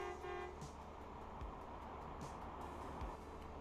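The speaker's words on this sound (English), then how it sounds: "honking to let him know, hey, he's getting into it so he can stop getting into it" A truck horn toots at a truck stop over steady traffic rumble, a couple of short honks rising above a continuous engine drone.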